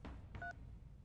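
Telephone dialing in a video game, two short keypad tones in quick succession, clear and isolated over a quiet low background.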